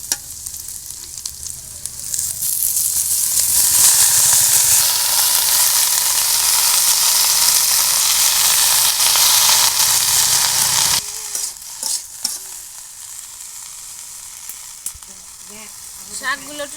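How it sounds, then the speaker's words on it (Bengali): Greens tossed into a hot pan of fried shrimp and spices let out a loud, steady sizzle while being stirred, then drop after about eleven seconds to quieter frying with scattered scraping clicks. "এবার আমি শাকগুলো এর ভিতর দিয়ে দেবো।"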